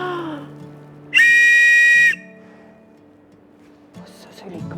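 One loud, shrill whistle blast lasting about a second, sharp and piercing, with quieter voices before and after.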